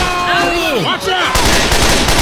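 Gunfire in a fast shooter video game: rapid bursts of shots that grow denser and louder in the second half. Whooshing effects come first, and there is no clear speech.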